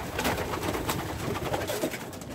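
Ornamental pigeons in a loft giving a low, continuous murmur of cooing, close and fairly loud, with no voices.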